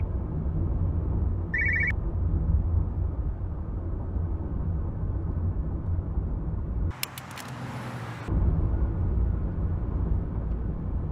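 A telephone gives one short, bright electronic ring inside a moving car, briefly cutting over the low, constant road and engine rumble.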